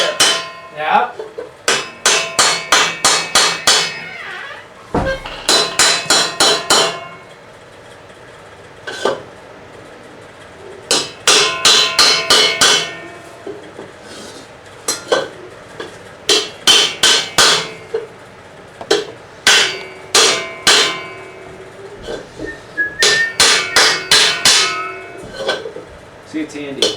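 A hammer strikes metal while a sallet helmet is raised by hand. Bursts of rapid, ringing blows come close and loud, separated by short pauses, with voices heard between some of the bursts.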